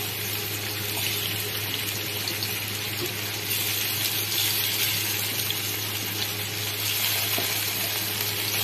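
Paneer, a full-fat Amul cream paneer, frying in refined oil in a pan: a steady, even hiss and sizzle with no talk and no pause.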